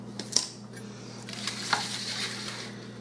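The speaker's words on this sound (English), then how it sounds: "Now, I'm going to get 2 spoons" Two spoons clink lightly against dishes while honey butter nut snacks are portioned, giving a few soft, close metallic taps over a quiet background hum.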